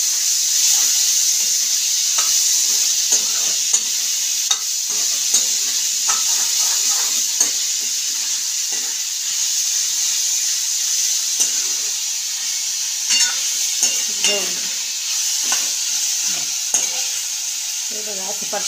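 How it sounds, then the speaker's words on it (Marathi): Tomatoes are sautéed in a pan for a home-style black-masala vegetable dish, with a loud, steady hiss of frying and irregular scraping and knocking from stirring, close up and without talk. "आता याच्यात टोमॅटो टाकायचे, त्याला परतळून घ्यायचं"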